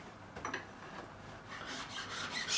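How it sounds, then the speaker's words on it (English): A Swiss file with a number 4 cut, held flat side down, bevels guitar fret ends on a Michael Kelly Patriot Premium during a refret, giving soft, close rasping strokes that grow a bit louder toward the end. "taking my Swiss file again, number 4 cut, flat side down"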